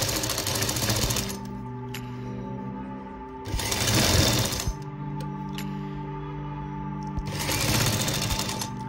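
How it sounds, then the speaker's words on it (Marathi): A sewing machine stitches the neckline of a baby's kurta jacket in three loud, steady bursts of rapid mechanical whirring, separated by short pauses, with no talking. "ह्या गळ्याला पूर्ण गळ्यासाठी टीप घालून घेणार आहोत."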